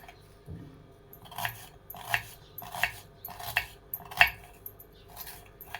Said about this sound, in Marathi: मी सगळा कांदा असं चिरून घेते